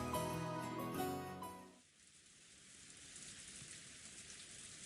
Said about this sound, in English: The wind and rain were strong